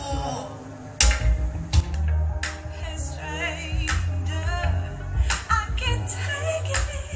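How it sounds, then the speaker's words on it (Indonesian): Hand-clap percussion in relaxing audiophile music played through a DSP: crisp, sharp claps land at intervals over the sustained instruments of the track. "bunyi perkusi, ada tepukan-tepukan itu"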